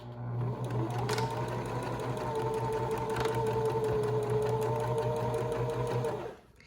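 A sewing machine stitches and backstitches fabric for a face mask, a steady close whirring run lasting about six seconds before stopping abruptly, with no talking.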